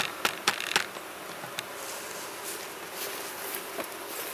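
Honey bees hum steadily around an opened hive with a bottom brood box exposed, a soft continuous buzz with a few sharp knocks and taps early on.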